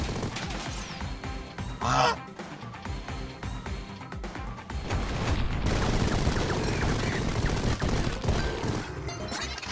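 Machine gun firing in Mighty Goose, with scattered shots early on that build into a dense, continuous stream of rapid fire, mixed with goose honks and game effects.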